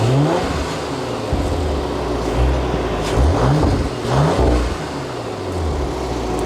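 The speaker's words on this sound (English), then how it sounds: "Yeah, the engine sounds really good. Just give it a few revs." An Audi RS4 engine revs repeatedly, rising and falling in pitch in several bursts over a steady idle, close and loud.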